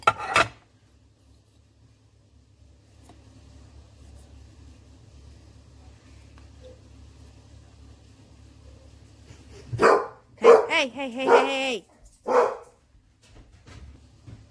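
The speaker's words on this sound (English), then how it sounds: "One dog's outside barking, one dog's sleeping in here." Dog barking outdoors, heard indoors during a polymer clay craft session: a burst of several loud barks near the end after a short spoken word, over a faint low hum.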